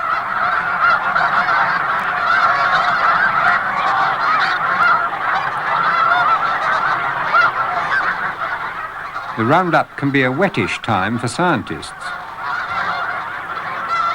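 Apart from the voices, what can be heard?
flock of honking geese, Canada, blue and snow geese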